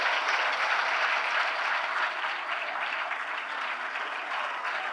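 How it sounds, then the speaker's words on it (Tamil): An audience claps in a sustained burst of applause, dense and steady across the whole stretch, gradually easing slightly toward the end. "அதனால இன்னைக்கே கைத்தட்டல் கொடுத்துட்டாங்க"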